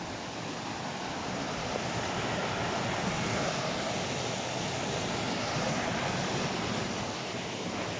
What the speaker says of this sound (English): Appears to be a waterfall.